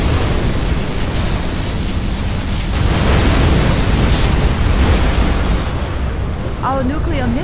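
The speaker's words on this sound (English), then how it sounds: "We have launched our nuclear missile." A nuclear missile detonation in the real-time strategy game Command & Conquer Generals Zero Hour, a long dense roaring rumble filling the whole stretch, with a brief tonal voice-like sound near the end.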